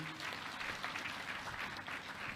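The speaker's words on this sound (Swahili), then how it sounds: "1, 2, 3, makofi mengi." Sustained applause from an audience at an official ceremony, a dense, steady clapping that fills the whole stretch without a break.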